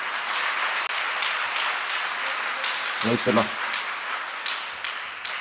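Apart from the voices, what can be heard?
congregation clapping at a church feast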